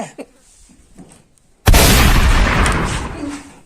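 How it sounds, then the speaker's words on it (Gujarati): A gun fires one sudden, very loud, close bang in a Gujarati comedy skit, followed by a long rumbling decay. Brief voices and small sounds come before the shot. "જોજે દીકરા કેવો ભડાકો થાય છે."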